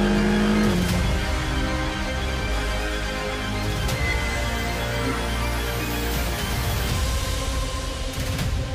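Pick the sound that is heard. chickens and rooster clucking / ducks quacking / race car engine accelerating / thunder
race car engine accelerating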